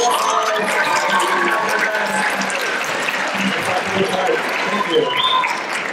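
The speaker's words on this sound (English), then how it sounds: "Another round of applause for all 5." A high school audience at an international night performance claps in a continuous, dense round of applause lasting several seconds, with some voices mixed in.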